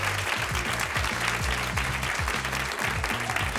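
A theater audience claps at a town hall event with the mayor, a dense, continuous wash of applause with a low hum running underneath.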